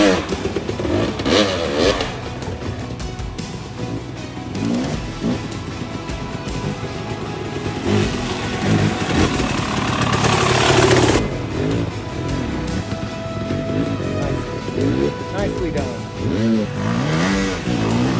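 KTM two-stroke dirt bikes ride on trails in Utah, engines buzzing and revving loudly and steadily throughout, with rising and falling pitch as riders throttle up and ease off.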